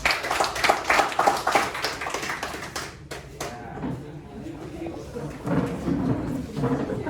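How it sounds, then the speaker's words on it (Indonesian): A class applauds a student group, with dense, close clapping for about three seconds that then thins out into a lower murmur of voices and rustling. "tepuk tangan buat kelompok"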